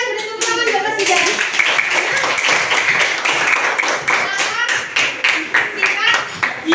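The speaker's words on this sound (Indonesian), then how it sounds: "terima kasih sudah tepuk tangan buat Mas Didan." Group clapping in a classroom, including children, a loud rhythmic patter of hand claps with distinct individual strikes, accompanied by young voices talking over it.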